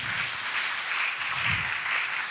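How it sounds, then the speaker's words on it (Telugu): A crowd applauds steadily at a church birthday celebration for a priest, a dense, even wash of clapping that continues without pause through the whole stretch. "శుభాకాంక్ష చప్పట్లతో వారిని ప్రత్యేకంగా మరి అభినందిద్దాం."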